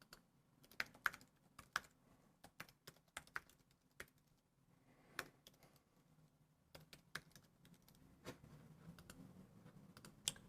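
Someone types an email on a computer keyboard: quiet, irregular bursts of key clicks with short pauses between, close by and faint, with no talking.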